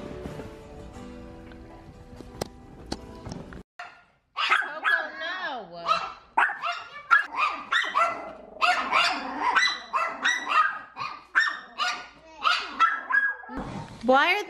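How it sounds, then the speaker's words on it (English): Several dogs bark excitedly as a package arrives at a home, a burst of loud, close, overlapping barks and yips running for about ten seconds after a brief stretch of indoor activity. "Why are my dogs like this every time a package comes?"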